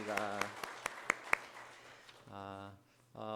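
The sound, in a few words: congregation applauding to welcome new members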